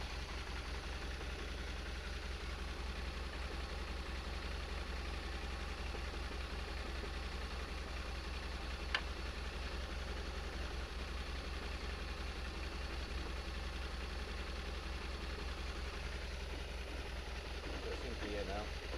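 A BMW R1200RT motorcycle engine idles with a steady low throb, faint and continuous for the whole stretch with no change when the bike is put into gear. Someone talks over it.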